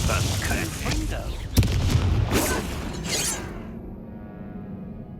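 A Confringo blasting curse is cast in Hogwarts Legacy, with a sharp crack followed by booming, shattering bursts mixed with battle noise, all fading to near silence at the end.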